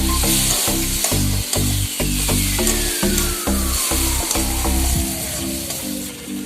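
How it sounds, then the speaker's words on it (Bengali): Potatoes fry in spiced masala with a loud, steady sizzle as a spoon scrapes and stirs them in rhythmic strokes around the pan, and a hum drops in pitch near the end. "এবার আলুগুলো দিয়ে দেবো। তো এটাকেও একসাথে ভালো করে কষাবো।"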